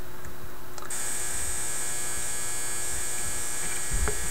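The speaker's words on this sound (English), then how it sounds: "that's the buzzer on my clothes dryer going off" A clothes dryer buzzer sounding in a home, a sustained loud electric buzz that switches on abruptly after the first second and drones steadily to the end, with a faint hum beneath.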